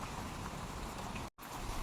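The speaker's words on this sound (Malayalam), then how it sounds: "കാറ്റ് വീശുണ്ട്" Wind blows across a vegetable garden with grow bags, a steady soft whoosh that stays faint and even throughout, broken only by a brief dropout near the end.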